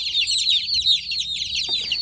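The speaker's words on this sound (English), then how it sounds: "I take a few of the birds out and I just dip their beak in the water" A crowd of meat bird chicks peeps continuously in high, overlapping chirps, loud and close, after having their beaks dipped in water in a dim brooder.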